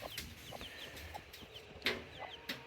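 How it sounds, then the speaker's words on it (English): A hen with five small chicks on a country homestead gives soft, scattered clucks, and the chicks answer with high, faint peeps, heard at a distance with no talking. "this little hen here with her 5 little babies"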